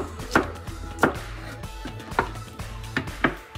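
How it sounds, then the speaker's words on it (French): A knife chops okra (dongo dongo) on a board: about five sharp, close chops at an uneven pace, each with a short woody knock, and no talking. "on a fini de couper notre dongo dongo"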